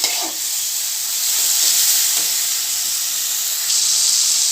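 Chili masala sizzles and fries steadily in a pan, a loud, continuous bright hiss with a few faint stirring scrapes and no voices.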